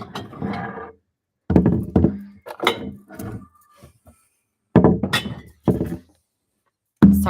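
Mason jars knocking and clinking against a hard surface as they are handled, a string of loud, close, irregular thunks and glassy clinks separated by short silences.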